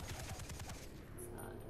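Weapon fire in Far Cry 3: a quick run of loud, dense shots packed into under a second, followed by a noisy game ambience with a brief high tone.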